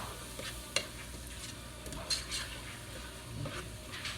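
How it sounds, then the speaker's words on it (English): Garlic is stirred in a cooking pot over a soft background sizzle, with a few sharp spoon clinks and scrapes against the pot. It is quiet and close. "I'm going to stir this garlic in."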